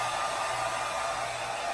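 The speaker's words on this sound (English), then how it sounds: "You can turn your blow dryer on low and blow dry that really quick." A blow dryer set on low dries lace front wig glue, a steady close whooshing hum with airy hiss that holds even throughout.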